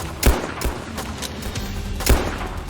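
A gun fires in the Soviet Soldier video game, sending out sharp, punchy shots at irregular intervals, several rounds with two especially loud reports, over a continuous low battlefield rumble.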